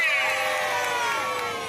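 Children cheer and shout together for Mr. Punch at a Punch and Judy puppet show at the Royal Norfolk Show, a loud, sustained burst of young voices throughout.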